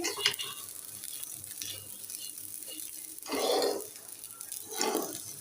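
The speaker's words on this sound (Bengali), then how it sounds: "পোলা চাউলটা সুন্দর করে ভেজে নিচ্ছি" Polao rice is fried in a pan, with quiet crackling, scraping and stirring and two louder bursts of sizzle near the end, and no talking.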